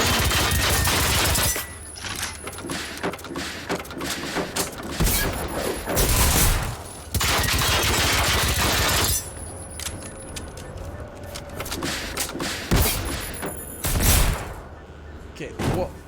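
Gunfire in the Generation Zero shooter game, sharp bursts of shots breaking out in several separate loud spells with quieter rumbling gaps between them, heard alongside a voice talking.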